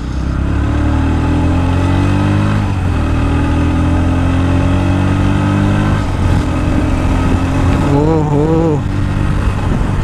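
A Bajaj Pulsar NS125 motorcycle idles steadily at a traffic signal, a continuous low engine hum with a brief rev-like rise near the end, heard up close over background traffic noise.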